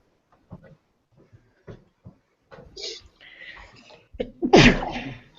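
A person in a classroom gives one sharp, loud sneeze near the end. It is preceded by quiet clicks, soft shuffling and murmured speech.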